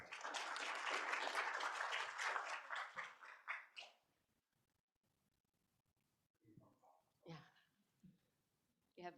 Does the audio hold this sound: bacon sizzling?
no